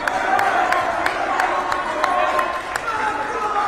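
Crowd noise from both sides fills a high school gym during a boys' volleyball match between Braintree and Weymouth. Steady murmuring and cheering run under an announcer's commentary, with light rhythmic clapping or stomping.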